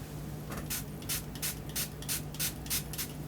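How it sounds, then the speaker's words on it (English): Quick, short spritzes from an Elf Soothing Aloe spray bottle dampening a makeup sponge, about eight bursts in an even rhythm, close and soft over faint background hum. "I'm going to use this Elf Soothing Aloe spray"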